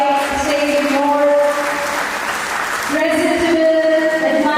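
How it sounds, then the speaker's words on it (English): Applause rises from an audience at a stage event while a steady musical tone with harmonics plays throughout. The clapping swells in the middle and thins slightly toward the end. "wind up with a big round of applause"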